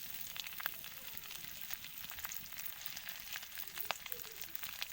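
Dried fish fries in hot oil, giving a steady, faint crackling sizzle with scattered pops, heard alone.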